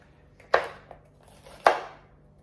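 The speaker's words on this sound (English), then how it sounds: "This knife is super sharp, so it allows me to cut very well." Two crisp knife chops land on a cutting board about a second apart, each a sharp close thud with a brief decay, while the kitchen stays otherwise quiet; the knife is very sharp and is slicing bell peppers.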